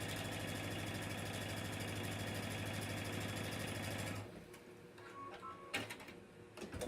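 A sewing machine stitches a French seam with a narrow seam allowance: a steady, rapid mechanical whir runs close and loud for about four seconds, then stops, leaving quiet handling rustles.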